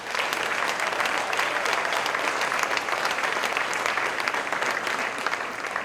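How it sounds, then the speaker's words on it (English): Awards-ceremony audience applauding steadily, a dense sustained wash of many hands clapping at full strength for about six seconds with no talk over it. "Please give yourselves a round of applause there."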